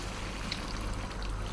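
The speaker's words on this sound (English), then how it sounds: "you remember that water that we boiled or pressured the meat in? We're going to add some of that" Cooking liquid left from boiling or pressure-cooking beef poured into a pot of beef stew, a soft continuous splashing pour lasting about a second and a half at moderate level.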